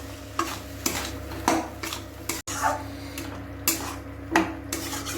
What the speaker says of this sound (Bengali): এটাও একটু নাড়াচাড়া করে নিব